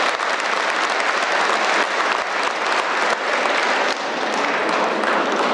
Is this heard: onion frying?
no